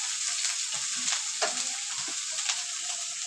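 Chopped onion fries in a pan over a low-to-medium gas flame, giving a soft, steady sizzle with occasional light crackles and stirring scrapes, quiet and close, with no talking.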